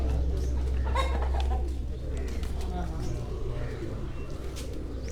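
Pigeons cooing on a rooftop in Pakistan, soft throaty coos and bird calls scattered beneath a steady low hum and people talking nearby.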